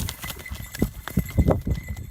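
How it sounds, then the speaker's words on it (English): Horse hooves pounding a wilderness trail as the animal charges toward two dogs, a fast irregular clip-clop of heavy thuds at close to mid distance with no talk over it. "Without warning, the horse begins thrashing aggressively before charging directly toward the two dogs."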